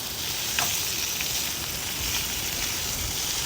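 Bacon frying in a pan over a campfire outdoors, a constant bright hissing sizzle with faint crackles, close and even in level for the whole stretch, with no voices.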